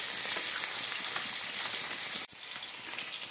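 Potatoes browning in hot oil, a loud, even crackling sizzle that cuts off abruptly for an instant, then resumes slightly quieter.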